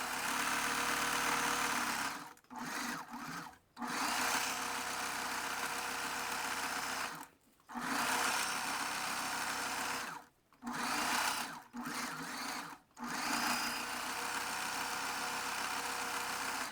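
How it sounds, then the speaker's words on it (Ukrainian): A sewing machine stitches a second seam on a bust, running in steady whirring stretches broken by several short pauses, close and loud with no talk. "Прокладаю другу строчку."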